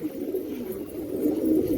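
A pigeon perched on a solar panel coos in a soft, low, steady murmur close by, continuous and without any speech.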